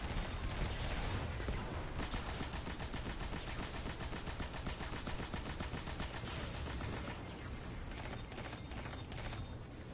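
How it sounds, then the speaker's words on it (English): Rapid machine gun fire from the Destiny shooter game: a long, steady stream of quick mechanical shots rattling on for several seconds, fairly faint, slightly easing near the end, with no talk over it. "I should be using my machine gun"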